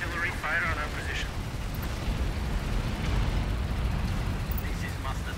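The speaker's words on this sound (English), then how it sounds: "Artillery fire on our position." Artillery explosions in Tom Clancy's EndWar, a dense continuous rumbling barrage of blasts with a few brief radio-style voice fragments over the top, loud and sustained throughout.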